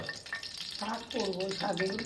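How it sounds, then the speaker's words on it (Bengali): Brinjal slices sizzle and crackle in hot oil in a home kitchen, a soft steady frying hiss under nearby voices. "এই এখন কিন্তু বেগুন ভাজা হবে"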